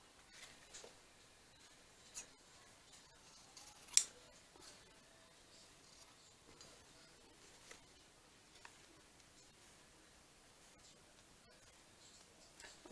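Paper being cut with scissors during a craft project, producing faint, sparse snips and light rubbing, with one sharper snip standing out amid quiet handling noise.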